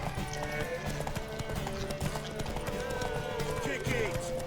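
Horse hooves in The Witcher 3, a quick clip-clop rhythm of hoofbeats running steadily beneath a voice and game music, close and moderately loud throughout.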